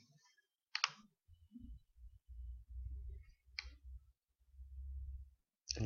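Computer mouse clicks during an online sign-up for Spotify: three sharp, isolated clicks spaced a few seconds apart, heard fairly close over a low hum of background noise.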